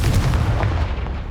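Confringo spell blast in Hogwarts Legacy, heard as a loud, booming burst with a deep rumbling low end, fairly close and alone for about a second.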